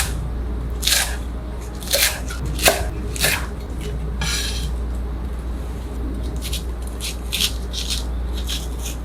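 A knife chops garlic chives on a cutting board in a series of crisp, close, uneven cuts over a low steady hum.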